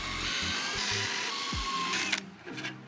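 Power drill countersinking screw holes in a wooden board, a steady high whine running almost continuously with a brief pause near the end, close and fairly loud.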